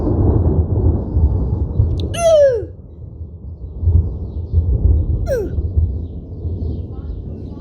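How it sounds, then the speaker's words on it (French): Thunder from a lightning strike during a storm rolls as a low, rumbling roar that swells and fades over several seconds, crossed by two brief falling whistles. "La foudre, c'était."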